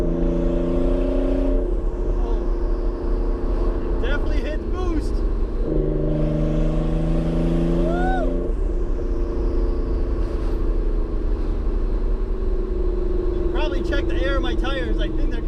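A Nissan 300ZX Z32 twin-turbo sports car accelerates under boost, its engine note rising in two strong surges with a steady drone in between, heard from inside the cabin over constant road rumble.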